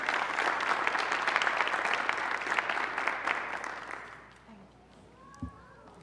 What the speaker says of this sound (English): So one more time, a round of applause for Jenna White, our Student of the Month.